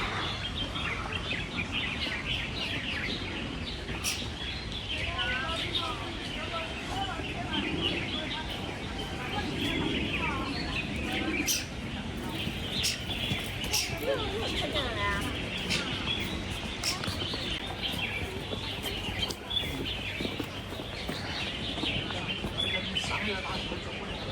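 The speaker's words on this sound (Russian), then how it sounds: "Слышите, как птицы поют?" Birds chirp and sing continuously from nearby trees at the Wuhou Temple in Chengdu, bright calls layered over outdoor ambience with occasional voices in the background.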